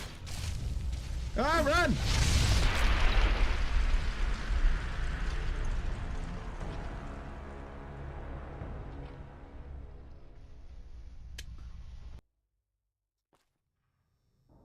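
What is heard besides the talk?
explosion in a video game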